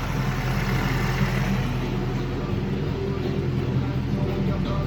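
Steady idle of a Mazdaspeed 3 (Axela MPS) engine in a workshop during an engine flush, an even, close low-frequency drone with no throttle changes.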